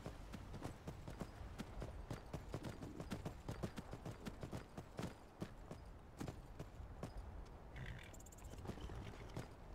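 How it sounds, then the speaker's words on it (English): Steady clip-clop of a horse's hooves at a walking pace in Skyrim, rhythmic and fairly quiet, with a faint chime near the end. "All right, Serana, where'd you leave your horse?"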